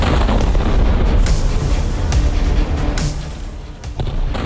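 Explosions from an Israeli missile air strike on buildings in Doha, Qatar, roaring as a continuous loud rumble with several sharp blasts standing out, and a narrator speaking over it.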